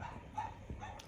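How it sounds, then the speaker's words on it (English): A dog barks and yips at the neighbouring dog, picked up faintly by a chicken coop camera at night, a few short distant barks over low background hiss. "You can hear Aria barking at the dog next door."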